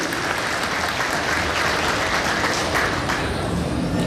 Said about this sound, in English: So give yourself a round of applause for boosting our economy.